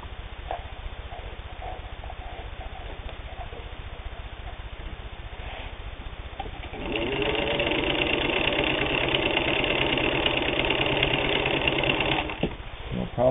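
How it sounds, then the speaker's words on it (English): A vintage Singer 15-91 sewing machine stitches through eight layers of denim, running with a fast, steady mechanical whir for about six seconds after quieter background noise, then stopping. "No problem at all sewing 8 layers of denim."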